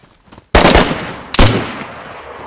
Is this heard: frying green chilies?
no